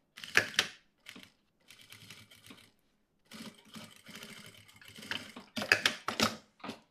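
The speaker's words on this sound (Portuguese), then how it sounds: "continuo costurando o restante do meu tecido principal com o estruturador" Sewing machine stitching the main fabric of a zippered toiletry bag with interfacing, running in short bursts of rapid mechanical clatter separated by brief pauses, close and clear with no talking.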